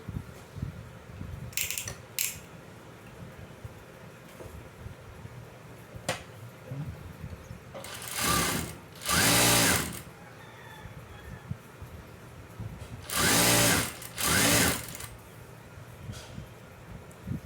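A sewing machine stitches folded lining fabric for cut-work sleeves in two short bursts, each pair of quick whirring runs standing out over quiet room noise with faint rustling and taps between.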